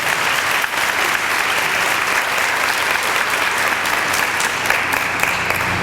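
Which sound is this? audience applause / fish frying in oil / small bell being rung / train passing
audience applause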